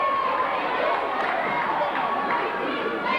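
Home crowd at a 1988 high school basketball game between Salem and Lynn Classical, a dense continuous roar of cheering and chatter filling the gym at steady loudness throughout.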